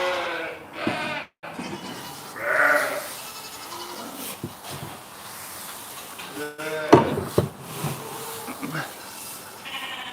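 A goat calls loudly during sheep shearing with electric clippers on a farm, a short bleat cutting through nearby talk amid clipper buzz and handling noises.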